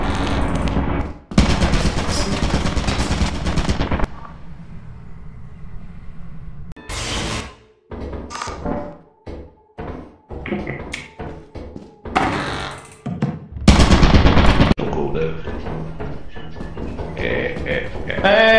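Turret in the Lethal Company video game firing loud rapid machine-gun bursts, a long volley at the start and another burst later, with scattered clicks and taps between.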